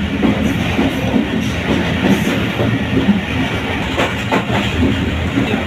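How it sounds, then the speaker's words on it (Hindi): A passenger train in Pakistan rolls along the rails with a steady loud rumble and faint rhythmic clickety-clack, heard from inside the carriage, with no talking. "हम ट्रेन के अंदर जो है सखर के लिए बैठे थे"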